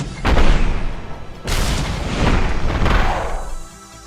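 Rocket launcher in the retro shooter game I, AI fires and explodes: a sharp blast followed by a second heavy boom, loud and rumbling with a long decaying tail.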